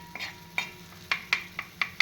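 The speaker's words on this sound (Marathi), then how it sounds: "त्याच्यामध्ये हे भाजलेलं वांग मी आता थोडं परतून घेते तव्यावरती" Roasted eggplant being stirred and sautéed with chili in oil on a griddle, a series of sharp scraping and tapping strokes over a faint low sizzle, close and fairly quiet.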